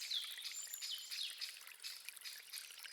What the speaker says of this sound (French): Laissez-vous guider par le doux murmure de l'eau.